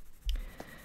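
A Derwent Studios coloured pencil in Venetian red scratches lightly across paper in a few short, soft strokes, close and faint.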